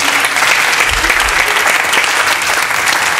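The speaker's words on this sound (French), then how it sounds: "On applaudit." Dense, loud studio-audience applause on a French television game show, a sustained wash of many clapping hands that holds steady throughout with no talk over it.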